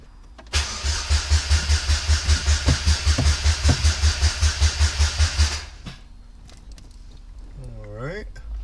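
A supercharged Saturn ION sedan's starter cranks the engine in a steady rhythmic churn for about five seconds without it catching, then cuts out, leaving quiet with a faint whine at the end.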